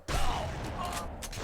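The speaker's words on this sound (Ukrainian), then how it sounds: "Хто там стріляє в мене?" Gunfire from The Punisher video game, a burst of shots with mechanical clatter that starts abruptly and carries on loud and dense for over a second, with no voices over it.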